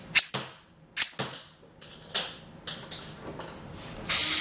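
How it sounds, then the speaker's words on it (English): HEXBUG VEX Robotics Gatling toy firing in quick sharp snaps, about eight close plastic pops spaced irregularly, ending in a burst of noise. "it can shoot them all very, very quickly, and it makes a lot of noise"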